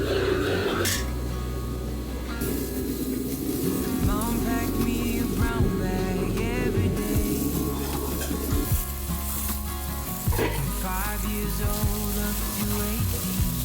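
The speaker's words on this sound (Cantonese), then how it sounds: "油炸塊豬扒" A pork chop deep-frying in a Hong Kong restaurant kitchen, a steady loud sizzle that runs throughout, with occasional clinks of utensils and pans.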